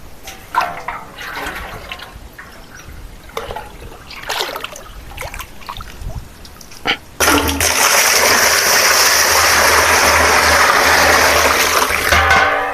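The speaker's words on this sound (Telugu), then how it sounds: "ఈ బింది సహాయంతో అయితే నేను ఈ నీటిని ఈ డ్రమ్ములో అయితే వేస్తున్నాను" Water is poured from a pot into a drum while spraying cashew trees. Some handling clatter comes first, then a loud, steady gush of splashing water fills the second half.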